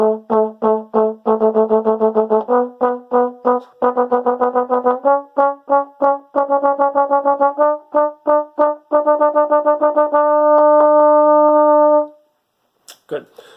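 A trombone plays a warm-up run of short, cleanly separated notes in an even rhythm, close and loud, moving through a scale before settling on a longer held tone, with no talking.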